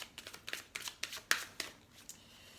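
Oracle cards are shuffled and drawn from a deck, a series of crisp riffling flicks and taps close up, about a dozen quick bursts in irregular rhythm, quiet and alone.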